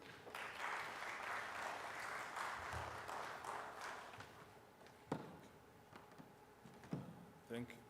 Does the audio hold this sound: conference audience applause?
yes